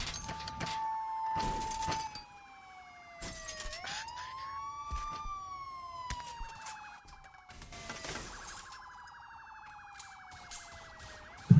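Wailing police car sirens sweep up and down, overlapping, punctuated by loud bursts of crashing noise in the Roblox game.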